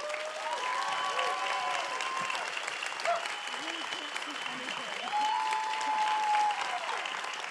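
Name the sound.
audience applause for the Arcane filmmakers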